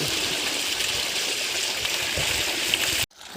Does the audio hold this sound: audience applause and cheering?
no